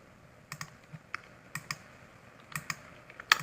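Keys on a computer keyboard clack in short irregular bursts of quiet, close clicks across a few seconds, with brief pauses between groups and no voices.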